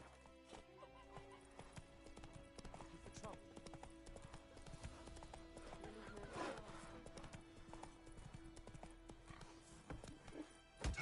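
Roach, a horse in The Witcher 3 video game, galloping with rapid hoofbeats alongside a neigh, mixed under game music and ambience, with a burst of louder sound at the end.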